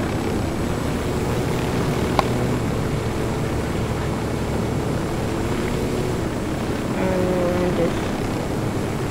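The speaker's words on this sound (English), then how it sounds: "there's an airplane." An airplane flies overhead in the video game Tom Clancy's Ghost Recon, heard as a steady, broad engine drone that fills the whole stretch, with a faint click and a soft tonal hum near the end.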